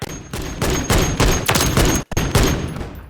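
.50cal Beowulf firing full auto in Call of Duty Modern Warfare III, a loud, fairly slow string of heavy booming shots, about eight in three seconds, with a brief gap partway through.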